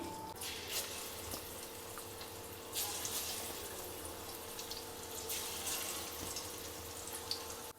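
Pakoras made from Maggi noodles frying in hot oil, giving a steady soft hiss and crackle throughout with faint bubbling swells and no talking.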